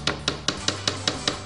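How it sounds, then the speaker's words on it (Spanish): Seven sharp, evenly spaced taps from a wooden mallet striking a wooden dowel into a glued hole while building a wooden sled, close and clear with a steady rhythm and no talk. "Y ahora introducimos el tubillón con una maza de madera."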